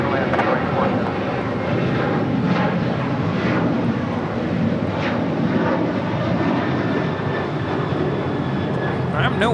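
DHL Boeing 767-300 converted freighter landing at LAX, a continuous loud jet engine roar that stays steady throughout, with voices talking over it.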